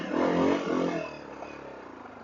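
A 30-year-old kickstart Honda XR250L with a carburetor, its single-cylinder engine running close by and loud at first, then settling into a steadier, quieter idle-like rumble.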